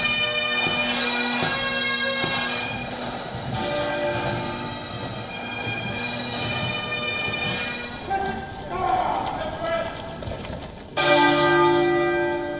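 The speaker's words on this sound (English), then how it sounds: "Chimes of the Big Ben marked the start of the state funeral." Big Ben's bells chime during Queen Elizabeth's state funeral in London, a sustained ringing with rich overtones over crowd and ambient noise, swelling louder near the end.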